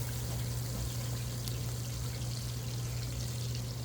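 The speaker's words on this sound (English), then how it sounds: "Get that with a little bit more water." Water poured onto ears of grilled corn on a Blackstone griddle, a steady hissing pour and sizzle running the whole way through, close and fairly loud with a low hum beneath and no talking.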